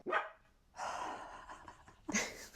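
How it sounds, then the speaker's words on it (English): A pug barking indoors at home, two or three sharp close barks with huffing breaths between them, loud and unaccompanied by talk. "We've just got dog sounds in this episode"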